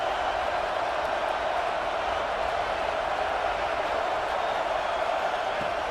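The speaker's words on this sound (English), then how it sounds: "Listen to the crowd energy here in the early going. This is a tough environment for visitors." Stadium crowd in a Madden NFL football video game: a loud, continuous, even roar of crowd noise with no breaks, heard on its own without commentary.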